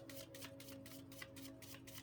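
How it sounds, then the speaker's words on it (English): Tarot cards are shuffled by hand in quick repeated riffles, giving a soft, rhythmic papery flutter that recurs several times over a faint steady background hum. No one speaks. "I'm going to give it one more shuffle."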